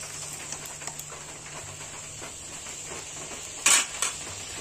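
Pieces of pointed gourd go one by one into a pot of gently bubbling liquid, giving a couple of sharp metallic clinks near the end over a faint, steady simmering hiss, with no talking.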